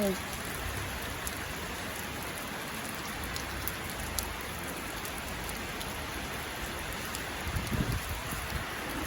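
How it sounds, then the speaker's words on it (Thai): Steady rain pours down outdoors at a fruit-selling spot with elephants, a dense continuous hiss across the whole stretch, with a faint voice briefly audible near the end. "ฝนตกนะคะ"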